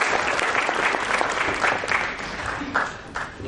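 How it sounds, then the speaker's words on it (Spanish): Audience at a human rights congress applauding a guest speaker, a full steady round of clapping across the room, fairly loud and continuous. "Un aplauso, por favor"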